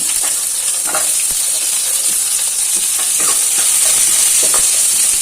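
Chana dal fries in a pan with a loud, continuous hissing sizzle and a few faint stirring taps, close up and without talk.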